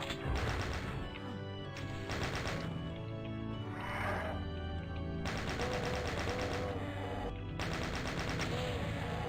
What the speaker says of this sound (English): The machine gun does stun revenants, but it's not as perfect as the plasma rifle